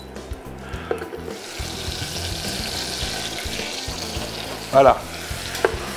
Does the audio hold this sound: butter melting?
yes